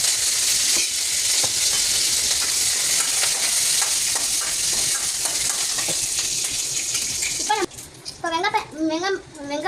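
Urad dal being stirred as it fries in a pan while making kambu (pearl millet) semiya, a steady loud sizzle with scraping stirs, ending in a brief burst of speech over the frying.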